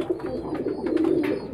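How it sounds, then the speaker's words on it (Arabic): Pigeons kept for breeding coo in a loft, a low, throaty, rolling murmur that runs continuously and close by, with faint rustling and no speech. "جبنا حمامة عشان نوري لحضرتك عليها"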